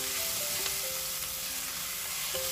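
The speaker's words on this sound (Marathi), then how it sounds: "तर हे सगळं छान परतवून झालं." Kasuri methi and coriander sizzling as they are sautéed in a pan, a steady soft crackling fry with small bubbling pops, heard alone at low volume.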